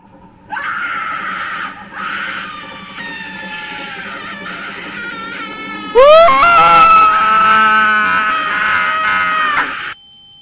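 A loud, drawn-out scream rising sharply midway and sustained for several seconds, heard close with no speech over it.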